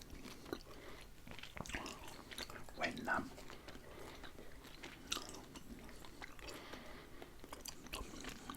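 Chewing gum with a hard sugary coating being crunched and chewed close up in a quiet setting, with soft irregular crunches and wet mouth sounds repeating over several seconds, faint breathy noise underneath.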